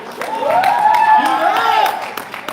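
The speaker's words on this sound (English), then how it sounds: "go ahead and start clapping" Audience applause at a poetry slam festival in downtown Las Vegas, a sustained wash of clapping and cheering that swells and fades, with voices calling out over it.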